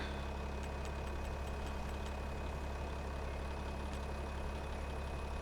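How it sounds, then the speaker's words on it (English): A tractor engine idles in a farming simulator game on a rural map, a steady low drone that runs unbroken throughout, with a few faint clicks above it. "I got to be out of the tractor"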